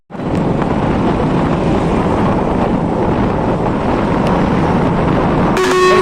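Busy city traffic with auto-rickshaws in Kolhapur, heard as a loud steady roar buffeted by wind on the microphone, with a horn honking near the end and no talk.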